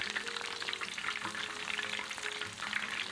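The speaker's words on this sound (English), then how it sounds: "Fry until crispy for about 3 minutes." Shrimp seaweed rolls in batter deep-frying in a pot of hot oil, a steady close crackling sizzle with dense bubbling that holds evenly throughout.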